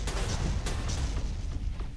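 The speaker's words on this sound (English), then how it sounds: "I can't see it for all the explosions" Dense, continuous rumbling explosions and booms from a space battle in the StarDrive video game, loud and overlapping with no pauses throughout.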